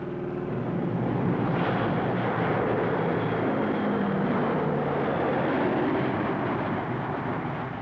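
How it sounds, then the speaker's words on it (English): Military transport aircraft, C-130 Hercules, C-123 Provider and C-7 Caribou, flying over a drop zone while dropping paratroopers, heard as a loud, continuous propeller-engine drone throughout. "Chutes filled the skies, dropped from C-130 Hercules, C-123 Providers, and C-7 Caribou aircraft."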